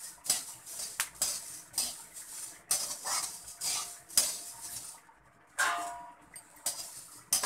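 A spoon scraping and clinking in a pan while roasted coriander seeds are stirred with the gas off, in irregular bursts of metallic rattling close by, fairly quiet and without talk.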